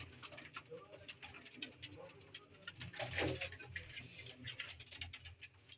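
Pigeons, old high-flyer breed kept by a fancier, coo and flutter faintly in their loft, soft patters and rustles rising and falling with a low murmur of voices underneath.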